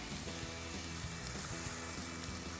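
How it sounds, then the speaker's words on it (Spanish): White wine poured into frying onions in a pan, a steady sizzle that fills the whole stretch at low level, with no talking. "Ponemos vino blanco."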